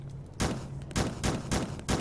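Weapon fire in the video game Starbound, four sharp, loud gunshots at an even rhythm, each a hard crack with a short tail, over a quiet background.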